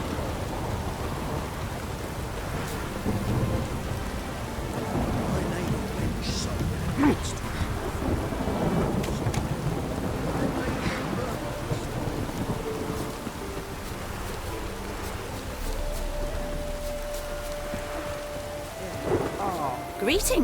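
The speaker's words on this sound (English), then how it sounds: "Rain doesn't bother you, it seems." Steady rain pours across an outdoor scene in The Witcher 3: Wild Hunt, with rumbles of thunder rolling beneath it. The downpour runs continuously under occasional spoken dialogue and faint in-game sounds.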